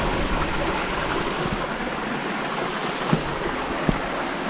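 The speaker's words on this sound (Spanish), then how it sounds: "Oye, pues corre mucha agua." Strong, steady rush of spring water flowing at an abandoned spa, a dense continuous roar with a couple of faint knocks near the end.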